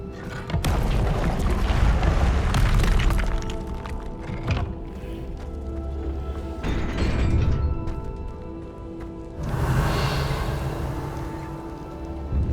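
Fiery spell blasts in a fantasy wizarding game: heavy booming bursts and crackling whooshes, loud and close, swelling in several waves over a dense game soundscape.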